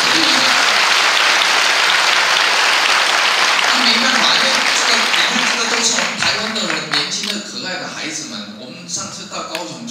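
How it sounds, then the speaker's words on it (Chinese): Loud, dense applause from an audience at a press conference fills the room, then thins and fades over the final seconds as voices start to come through. "等来掌声鼓励。"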